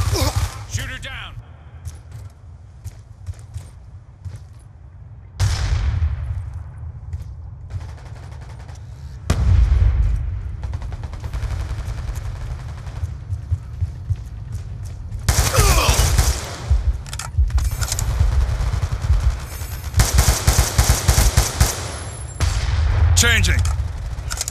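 Rapid gunfire bursts and single shots from a video game shootout, loud and close, in dense volleys separated by brief lulls, with voices calling out over the action.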